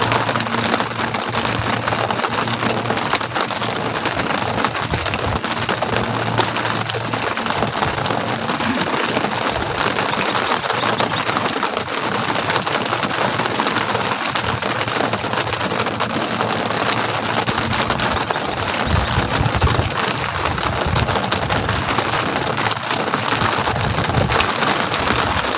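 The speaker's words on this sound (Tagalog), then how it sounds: "Gawa nang lumalakas yung ulan." Heavy typhoon rain pouring onto a hut roof and the fields around it, a dense, loud, steady hiss of drumming drops with no letup.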